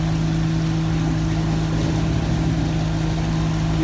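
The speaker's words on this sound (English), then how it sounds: "when the machine starts, probably the noise is going to be quite" Winemaking machinery at a Puglia grape harvest runs with a steady, loud mechanical drone and strong low hum, continuous throughout without pauses.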